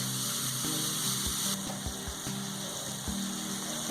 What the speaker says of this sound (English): You need not fry the onion till getting golden brown. Just saute it.